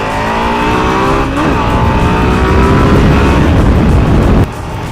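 A car passing in traffic on the road into Austin at night, a loud steady engine roar with a rising and falling pitch sweep as it goes by, close, with continuous road noise until it drops off near the end.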